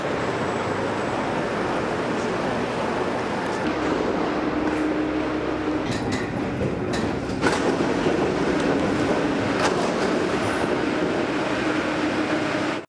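A Paris metro train passes at a station entrance, rumbling and clattering steadily with brief metallic squeals and clicks, moderately loud and with no clear talk.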